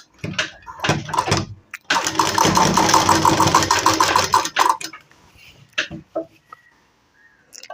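An electric sewing machine stitches the sleeve of a ready-made kurti. It runs loud and close in one steady three-second burst, with shorter start-stop runs before and after it and a quiet pause near the end.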